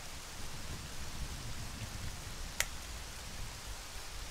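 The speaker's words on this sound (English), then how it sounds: "Rain isn't cold." Steady rain hissing in The Legend of Zelda: Majora's Mask, a constant wash of noise with one sharp tick partway through.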